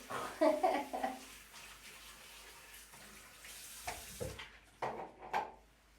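Water runs from a tap to rinse a funnel and other film-developing equipment, with splashing and trickling and a few louder splashes near the end.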